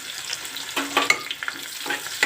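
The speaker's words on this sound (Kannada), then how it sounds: "ಮೆಣಸಿನ್ಕಾಯಿ ಎಣ್ಣೆಯಲ್ಲಿ ಫ್ರೈ ಆಗಲಿ." Chopped green chillies frying in hot oil for a vegetable palya, giving a close crackling sizzle with repeated stirring scrapes and small pops, no voices.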